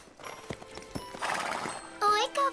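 Big horses clop their hooves in a few scattered steps, then neigh loudly in two close whinnies near the end, with a voice speaking faintly in between.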